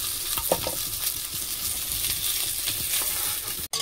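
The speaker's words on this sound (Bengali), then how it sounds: "মাছটা ভালো করে ভেজে নেব" Bhangor fish frying in a pan, with a steady close sizzle and a few stirring scrapes, and no voices.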